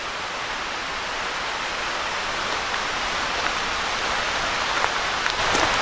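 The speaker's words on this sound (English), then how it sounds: "You can hear the creek down there." Tom's Creek flows along a forest trail in the Delaware Water Gap, a steady broadband rushing of water that holds constant throughout, with a few faint clicks near the end and no voices.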